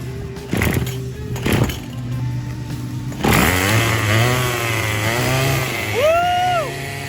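A Craftsman Speed Start 27cc string trimmer engine, under repair, gives a couple of quick sputters, then starts and runs with a buzzing two-stroke whine that rises and falls in pitch as it revs, loud and close.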